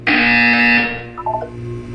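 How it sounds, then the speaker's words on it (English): A loud, harsh electronic buzzer blares in Portal 2, holding steady for under a second before cutting off into a faint lingering hum with a brief electronic blip after it. "You will hear a buzzer."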